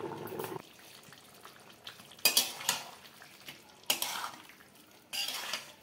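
Metal pot lid set down and handled on a pan of chicken rezala cooking with papaya, a few sharp clanks and scrapes spaced apart, close and fairly quiet with faint sizzling between.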